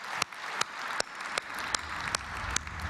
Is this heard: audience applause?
yes